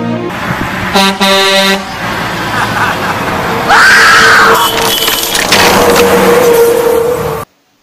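A truck's air horn blares in a long, loud blast near the start, followed by a rising shrill wail and steady road-vehicle noise, ending abruptly in silence.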